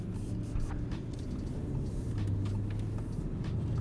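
A 2021 ABT Audi RS6-R with an extra 100 horsepower is heard from inside the cabin while driving, a steady low engine and road rumble at moderate level.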